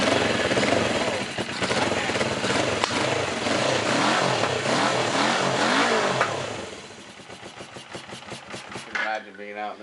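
A dual-sport motorcycle engine with dual carburetors fires and runs, a loud, close, uneven mechanical roar with revving swells that drops off near the end into sputtering, with a voice speaking over it.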